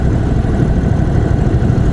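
An Indian Chief Dark Horse 2021 cruiser motorcycle engine running at low revs around 1200 rpm, a loud, close, steady deep rumble with no talking.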